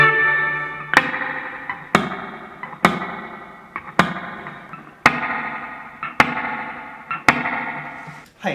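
Eight sharp plucked guitar hits through a Yamaha THR10II amp's spring reverb, each followed by a springy, splashy reverb tail that rings and decays, spaced about a second apart.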